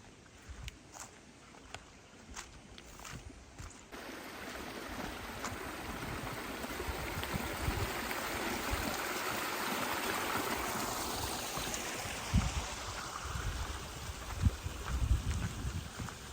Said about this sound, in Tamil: தண்ணி ஓடுது.